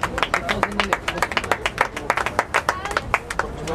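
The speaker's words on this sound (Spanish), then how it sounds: "Vamos a despedirlos con un fuerte aplauso a estos grandes atletas" Crowd at a track and field meet clapping for the athletes after a 200-meter final, with distinct, uneven hand claps at a moderate distance forming scattered, lively applause.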